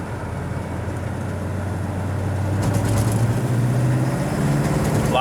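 A 1959 Ford Ranch Wagon hot rod's engine runs steadily outdoors as the car drives, a low continuous rumble that swells louder and rougher partway through and stays strong to the end.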